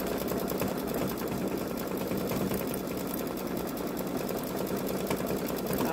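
A Babylock Solaris Vision embroidery machine stitching a design on a boy's long-sleeve shirt, running as a steady fast mechanical whir with rapid regular needle ticking, close and unbroken.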